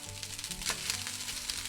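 Leftover fried rice with frozen vegetables sizzles in a hot pan, a steady close frying hiss with faint scraping as it is stirred.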